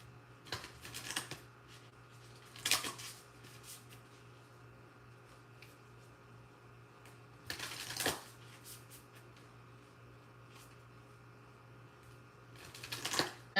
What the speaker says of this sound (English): Gonna shuffle up these last couple of decks.